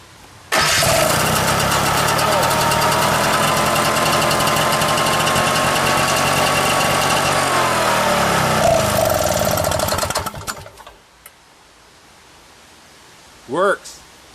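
A 1967 Ski-Doo Rotax engine on a go-kart fires up and runs loud and steady for about ten seconds, then sputters and dies, followed by a brief squeak.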